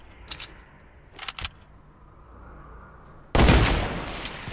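Sniper rifle gunshots in a video game, fired from about 270 meters: a couple of short sharp cracks early on, then a loud blast that rings out and slowly fades.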